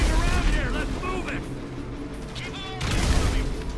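Rocket launcher fire in Grand Theft Auto V: loud blasts and rumbling explosions at the start and again near the end, with someone talking over the noise in between.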